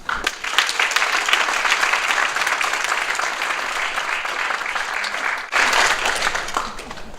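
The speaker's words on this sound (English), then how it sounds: "Give yourself a round of applause." Warm, sustained applause from a TEDxIIT audience fills the hall, breaking off briefly before a fresh surge of clapping resumes.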